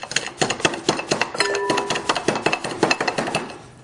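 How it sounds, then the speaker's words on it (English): Coriander seeds crushed with a pestle or mallet, a steady run of sharp, close pounding knocks with a brief ringing metallic tone partway through, no talking. "And then I'm just going to crush some coriander seeds"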